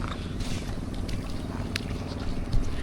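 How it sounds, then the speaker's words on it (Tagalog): Boats on the water off a beach, with a steady low motor drone under wind buffeting the microphone and lapping water, fairly faint and continuous. "Mga bangka."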